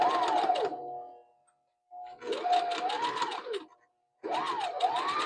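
A sewing machine stitches a zipper in three loud, close whirring runs, each starting and stopping sharply with short pauses between them.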